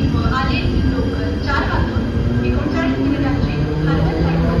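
A Mumbai local train at Dockyard Road station on the Harbour line rumbles steadily and loudly throughout, with rolling wheel noise, faint squeals and a station announcement in Hindi over the din.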